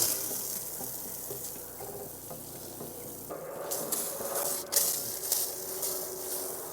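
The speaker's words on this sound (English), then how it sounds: "let's give this another chance and spray it with water" Water from a hose sprays onto a crusty, baked-on conservatory roof, giving a hissing, spattering wash that grows brighter and more splashy partway through, close and continuous with no talking.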